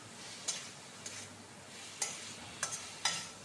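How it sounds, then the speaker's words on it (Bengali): Potatoes coated in spices are stirred in a pan. A quiet bed of frying sizzle runs underneath five or so short, sharp scraping clacks at irregular intervals, with no talk. "দিয়ে নাড়াচাড়া করে আমি নাড়িয়ে চাড়িয়ে সব মশলার গুলো আলুটার মধ্যে মাখিয়ে নিই।"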